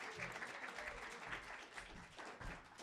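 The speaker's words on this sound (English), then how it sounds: "let's give a round of applause for Desiree" A small open mic audience applauds for the next performer, a steady wash of clapping heard faintly at a low level.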